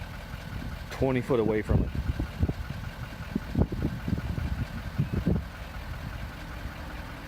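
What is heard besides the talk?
2019 Ford F-450 Super Duty pickup truck engine idling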